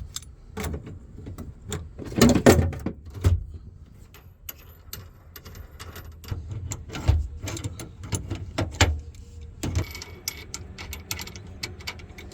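Tools work the bolts on a car's shifter clutch cables, producing a string of sharp metallic clicks, ratchet ticks and clanks at irregular intervals, close and moderately loud in a quiet garage.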